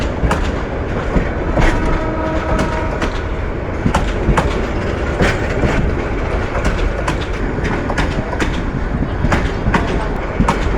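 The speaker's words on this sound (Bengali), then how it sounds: "এই ট্রেনটি ময়মনসিংহ থেকে ছেড়ে আসলো।" A passenger train from Mymensingh runs through Joydebpur station toward Dhaka Kamalapur. Its loud, close rumble carries a steady clickety-clack of wheels on rail joints for the whole stretch.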